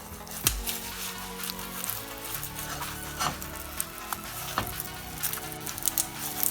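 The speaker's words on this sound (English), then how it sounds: "Now, just let it cook on this side for a bit and the egg will be done." An egg fries in a pan with a steady close sizzle, broken by scattered crackles and a few sharper pops. No one speaks.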